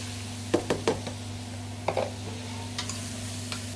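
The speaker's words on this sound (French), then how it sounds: "Donc tu vas faire bien faire revenir les petites échalotes." Shallots and quinoa sautéing in oil in a pan, heard as a few distinct stirring scrapes and light knocks of a utensil over a steady low hum, with short bursts of clatter spaced out across the moment.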